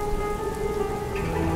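Steady rain pours down continuously, a dense hiss of drops close by with no voices, filling the whole stretch at an even level.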